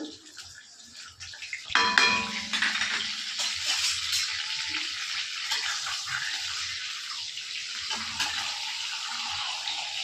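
Fish heads sizzling in hot oil in a pan with turmeric and salt, a loud continuous hiss and crackle that surges early and then holds steady, with occasional light clinks of utensils.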